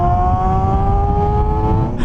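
A Suzuki GSX250F Across motorcycle engine revving loudly up close, a high-pitched inline-four whine that holds steady and climbs slightly before cutting off at the end.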